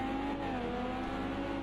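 Race car engines, including an Aston Martin, roaring down the straight in Project Cars 2, a steady, loud, sustained drone at high revs with no breaks.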